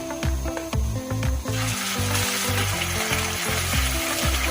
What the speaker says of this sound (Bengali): এখন আমি দিয়ে দিব কিছুটা আদা রসুন